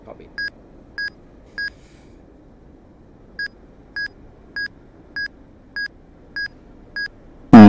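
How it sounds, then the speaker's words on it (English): Cockpit warning tone in the DCS World 2.5 flight simulator: a clean electronic beep repeating at a steady pace, three beeps, a short pause, then eight more, over a quiet background hum. "Beep, beep, beep, beep, beep."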